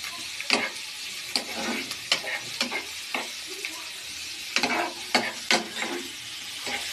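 Tomato curry frying in oil in a pan for a tomato palya, with a steady broadband sizzle and repeated sharp scraping stirs at irregular intervals, up close and with no voices.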